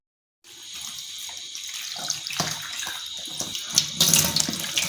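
Onion, capsicum and tomato washed under a running kitchen tap, ahead of a chicken stir fry; water gushes into the sink after a brief silence and splashes steadily and close, growing louder as the vegetables are handled under the stream.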